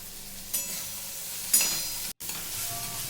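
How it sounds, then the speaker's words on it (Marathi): Ridge gourd sabzi with crushed peanuts being stirred in a pan, a soft continuous sizzle with a few scraping strokes of a spoon, fairly quiet with a brief dropout, no voices. "आता सर्व जे टाकले ते मिक्स करून घ्यायचं आहे"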